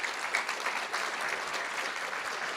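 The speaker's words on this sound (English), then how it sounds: "Let's give them a round of applause." Audience applause at a school board meeting, an even, moderately loud patter of many hands clapping continuously, with no talk over it.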